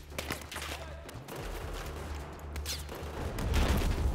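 Continuous distant gunfire and battle noise directed at the player in Battlefield 4, a dense rumbling wash of shots and low booms swelling louder toward the end, with no clear talk over it.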